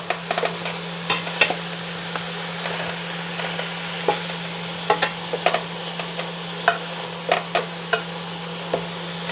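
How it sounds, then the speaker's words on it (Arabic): Pork trotters stirred and fried in ghee with onion, giving a steady sizzle broken by sharp, irregular scraping clicks of the spoon against the pot, with no one speaking. "على قد ما نقدر هنحاول ان احنا نقلبها كده من تحت لفوق"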